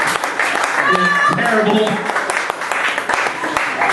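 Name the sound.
audience applauding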